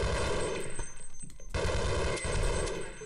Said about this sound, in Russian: А вы как-то не хотите аккуратненько, в башку мне стреляете.